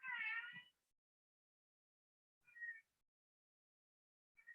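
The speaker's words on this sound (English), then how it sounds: "sorry for my cat going off in the background" A house cat meows three times in the background of a quiet room: one loud, drawn-out meow, then two shorter, softer calls after long pauses.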